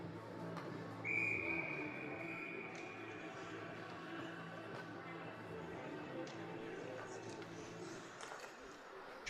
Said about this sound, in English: that was enough to draw a whistle